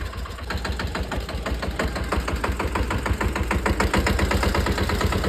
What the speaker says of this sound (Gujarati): વિસલા ને આવડી ગયું ટ્રેક્ટર